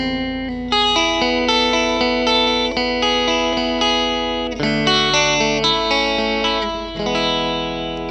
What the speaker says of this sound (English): that's my basic clean sound with the reverb from the amp as well